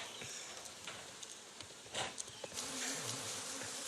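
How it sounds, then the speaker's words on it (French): Bees buzz around an opened beehive during a honey harvest on Réunion island, a steady insect drone filling the air with brief louder passes close by and light handling noises. "les abeilles mécontentes pourraient tenter de récupérer leur butin"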